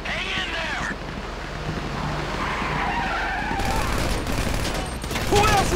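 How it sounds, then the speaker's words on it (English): Gunfire in the video game Grand Theft Auto V, a rapid volley of shots mixed with skidding tyres and car engine noise, fairly loud and continuous throughout, with no talking. "You hear that gunfire? That's how I'm doing."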